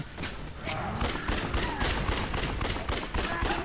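Rapid gunfire in the video game Yakuza: Dead Souls, a dense, loud volley of repeated shots rattling continuously for several seconds with no pauses or voices.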